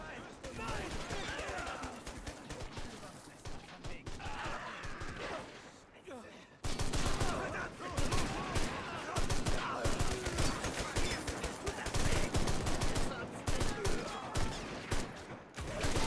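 Dense machine gun fire and rifle volleys from the WW1 game Great War Realism Mod, with continuous close bursts during an infantry charge and excited talk running over the battle.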